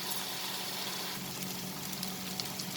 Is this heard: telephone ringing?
no